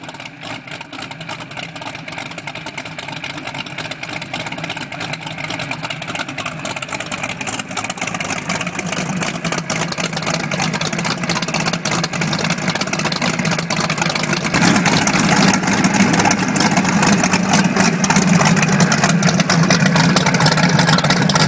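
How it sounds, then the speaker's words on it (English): Twin supercharged EFI engines on a 32-foot Chiatta boat with Whipple superchargers, running as a steady, loud engine roar that builds over the clip and grows heavier and louder toward the end. "Boostpower Marine getting ready to start up a twin engine 32 foot Chiatta with the Boostpower"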